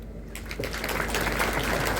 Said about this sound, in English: Makofi mazuri.